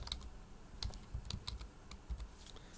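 Fingers type on a computer keyboard, producing a quick, irregular run of close, soft key clicks with brief pauses and no talk.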